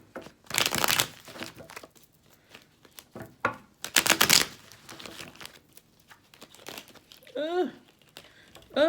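Tarot cards shuffled by hand in a loose, papery riffle, with crinkling bursts and bridging flutters coming in uneven clusters at close range, with a few short whistle-like chirps near the end.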